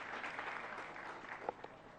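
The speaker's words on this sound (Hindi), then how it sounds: "जोरदार तालियां।" A crowd at a Jain religious gathering claps together in a dense, fairly faint patter that runs steadily for about two seconds.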